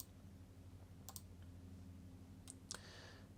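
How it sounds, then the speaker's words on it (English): A computer mouse clicks in CAD software, with a double click near the start and another pair later, crisp and faint against a low steady hum. "if I just click undo till I go back to the sketch"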